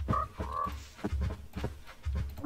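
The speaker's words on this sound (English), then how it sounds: "More frogs!" Frogs croak in Minecraft with a series of low, throaty croaks in an uneven rhythm. They sound close and moderately loud, with no talk over them.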